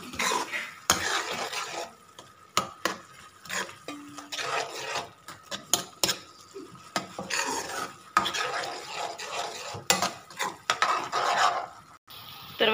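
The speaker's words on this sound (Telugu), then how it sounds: "జీలకర్ర పొడి, తర్వాత ధనియాల పొడి, ఈ రెండు వేసి కూడా మిక్స్ చేసేస్తున్నాం." A spoon stirs cumin and coriander powder into rajma curry in a metal pot, scraping and clinking repeatedly up close in uneven bursts, with no talking.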